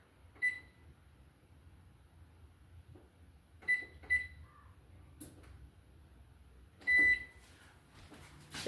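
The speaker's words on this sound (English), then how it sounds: "I'm going to set the timer for 1 hour." An oven timer being set gives a few short, sharp electronic beeps spaced apart, ending in a slightly longer tone, over a quiet kitchen hum.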